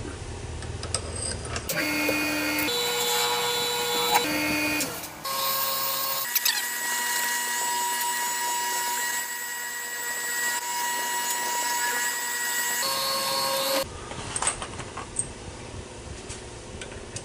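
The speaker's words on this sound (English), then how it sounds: "Let's go get our cap drilled." A drill bores into a pink Alumilite pen cap, whining at shifting pitches through several distinct stages with tonal motor harmonics, loud and close, ending with lighter rattling handling sounds.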